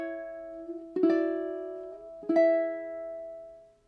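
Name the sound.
ukulele playing a song section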